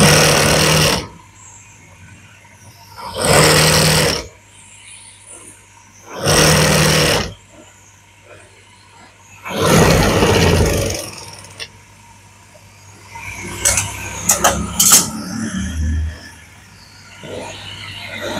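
A sewing machine stitches a double-layered blouse in several separate bursts of a few seconds each, loud and close, with quiet pauses between runs and a few faint clicks of handling near the end.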